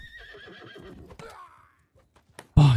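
A cavalry horse in Mount & Blade Bannerlord gives a loud, close neigh at the very end, following softer battle noises and faint clattering.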